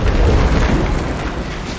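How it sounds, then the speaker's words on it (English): A dense, continuous low rumble with broadband roar, steady and loud throughout, like a structure shaking or collapsing nearby. "Sounds like this fucking building's coming down."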